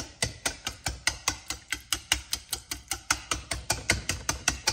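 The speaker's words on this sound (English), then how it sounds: "I'm just going to kind of chop up my cranberry sauce a little bit with my whisk." A whisk chopping and mixing cranberry sauce in a bowl, with a fast, steady run of sharp rhythmic clacks and scrapes, close and distinct, with no voices.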